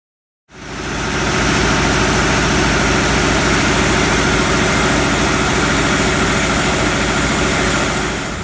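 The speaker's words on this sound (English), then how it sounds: "it's pumping it up the boom to the Cornell pump, powered by the John Deere engine" A John Deere engine powering a Cornell pump that moves manure starts up and settles into a loud, steady low-pitched roar, close and continuous, with a droning hum.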